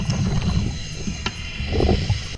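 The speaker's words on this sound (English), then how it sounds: "You can hear boats cruising by the way. That's what that hissing sound was." Passing boats on the water make a steady, soft hissing wash with low rumble, fairly distant and continuous throughout.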